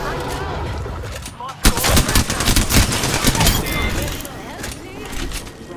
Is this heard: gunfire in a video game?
yes